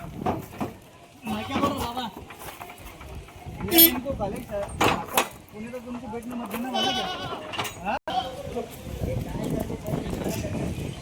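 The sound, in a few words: goats bleating at a market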